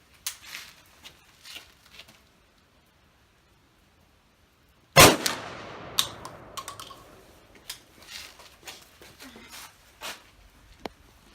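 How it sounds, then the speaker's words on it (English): A Remington Versa Max shotgun fires a Dixie slug at a 50-yard target outdoors: one loud, sharp blast midway, its echo trailing off into low rumble and scattered clicks, with quiet handling noise and faint talk before and after. "Dixie slug try balls, 50 yards out of the Remington Versa Max"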